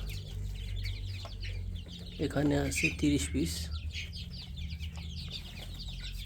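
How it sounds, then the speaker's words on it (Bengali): Chickens on a poultry farm cluck and chirp around a shed, with a steady low hum underneath; someone speaks briefly over the birds midway. "আর এখানে হচ্ছে আমাদের মুরগিগুলা"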